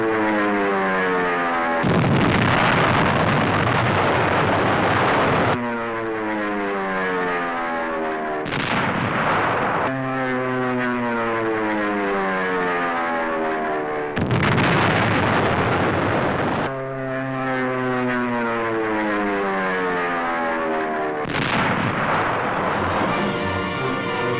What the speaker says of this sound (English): Now Mount Suribachi is smeared by Navy dive bombers.